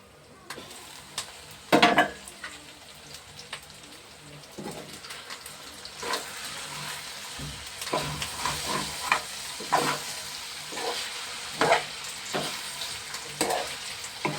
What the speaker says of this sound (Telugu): సరే కలిపి మూత పెడతానండి ఒకసారి.